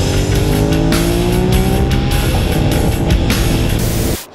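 Motorcycle engine held at high revs under throttle, a loud, steady, sustained roar with shifting harmonic tones throughout, cutting off abruptly near the end.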